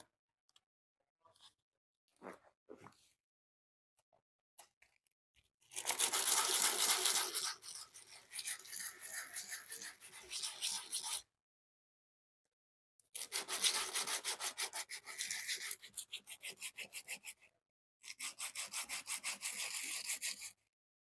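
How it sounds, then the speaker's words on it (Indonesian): Steady rasping strokes of sandpaper rubbed by hand over a handmade ring, in long continuous bursts separated by pauses, preceded by a few scattered taps. "kita ke proses amplas ya"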